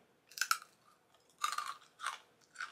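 Crunchy freeze-dried jackfruit being chewed close up, four or five sharp crisp crunches in irregular bursts separated by near-silent pauses, with no talking.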